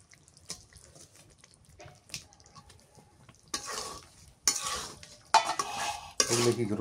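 Snakehead fish added to a pan of cooked spice paste, with quiet scraping stirs giving way to louder bursts of hissing sizzle and clattering spoon strokes near the end.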